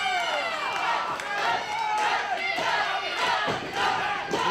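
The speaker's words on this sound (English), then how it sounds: "The crowd's coming alive for Jimmy Nuts." A wrestling crowd at an IWC event in Clearfield roars and shouts loudly in a continuous, swelling din, with many voices yelling over one another close by.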